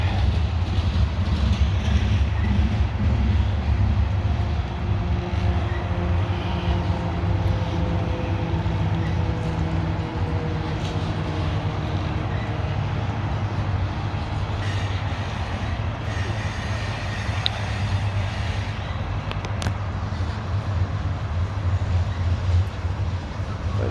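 A heavily loaded CSX coal train climbs Parrs Ridge on the B&O Old Main Line, a loud continuous rumble of locomotives and rolling wagons with occasional wheel squeal, steady and close throughout.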